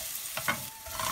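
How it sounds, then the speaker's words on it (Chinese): Scallion, ginger and garlic dropped into hot leftover oil in a wok, a brief, close, dense sizzle with a couple of sharper crackling bursts over about a second. "用锅里剩下的底油、葱姜蒜炝锅"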